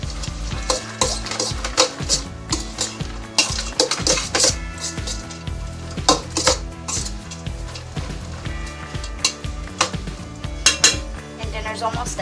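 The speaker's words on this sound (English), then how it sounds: "Give it a good stir." Sloppy joe mixture being stirred in a pan on the stove, with a spoon scraping and clattering steadily against the metal over a continuous sizzle, close and loud.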